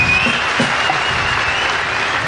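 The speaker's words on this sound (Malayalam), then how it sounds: "ഇഷ്ടമായെങ്കിൽ നല്ലൊരു കൈയടിച്ച്." Steady applause from an audience at a one-man comedy show, dense clapping that fills the whole short stretch at an even level.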